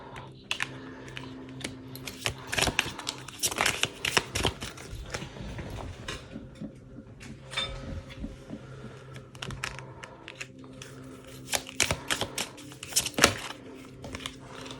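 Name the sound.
tarot cards being shuffled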